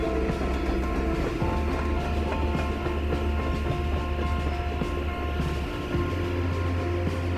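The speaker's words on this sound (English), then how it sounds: "And here's the train that we almost get killed by later" A train in the video game Life Is Strange: Before The Storm rumbles past loudly and steadily, with clattering wheels and a low mechanical drone filling the whole stretch, no voices.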